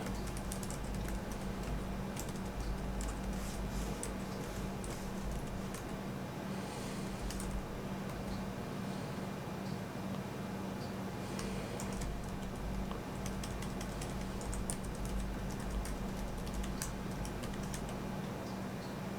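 Someone types steadily on the keyboard of a Pinebook Pro laptop, with continuous quiet clicks and occasional louder keystrokes, close and with no talking.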